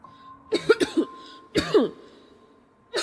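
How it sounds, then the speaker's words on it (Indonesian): A couple of short coughing fits close to the mic, several sharp barks each with a voiced, hoarse edge, then a brief pause before another begins. "Wah batuk gua."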